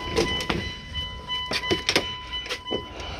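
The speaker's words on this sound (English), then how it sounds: "we'll shut that door so we don't have to listen to that very annoying dinging noise" A Cummins diesel truck's door-open warning chime dings repeatedly with the door open, a steady tone under irregular clunks and handling noises nearby.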